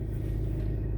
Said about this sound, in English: Turn my car off.